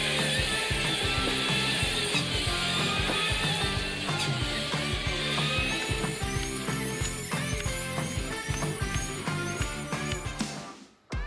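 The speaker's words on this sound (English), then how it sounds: "Close-up of the sharp moment of a powerful chainsaw blade cutting through giant blocks of wood processed by the TimberPro 755 cutter" A TimberPro 755 harvester's chainsaw bar cuts through large blocks of wood in the forest, a loud continuous mechanical whine with repeated rhythmic knocks and rattles from the machine, cutting off abruptly at the end.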